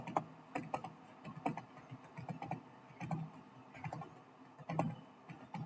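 Keys on a computer keyboard clatter in short bursts of quick clicks while text is entered into an Excel spreadsheet, close and fairly quiet, with brief pauses between the bursts.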